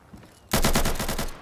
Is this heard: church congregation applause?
no